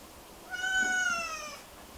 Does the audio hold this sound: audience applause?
no